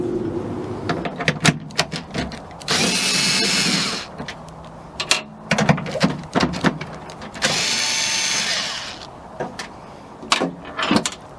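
Power drill driving out two 10mm screws from the tailgate of a 2014-2018 Chevrolet Silverado or GMC Sierra pickup, with two sustained whirring bursts close by, separated and surrounded by clicks and clatter of tools and parts.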